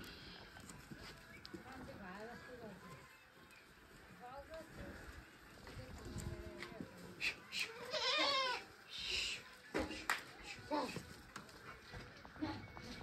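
A goat bleats a few times at moderate distance amid outdoor background noise, with people talking and moving around.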